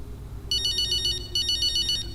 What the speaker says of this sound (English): Uh-oh, looks like we have a phone call.